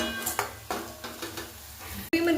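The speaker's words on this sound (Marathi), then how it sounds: "एका हिरवी मिरचीचे तुकडे बारीक केले ते व्यवस्थित परतून" Small chopped green chili pieces sauté in a pan, a quiet sizzle broken by repeated scraping stirs and a sharp utensil clink near the end, no talking.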